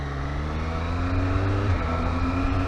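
A 2023 Triumph Street Triple R motorcycle engine idles loud and close, then its pitch climbs briefly as the bike pulls away, a steady mechanical hum throughout with no talking.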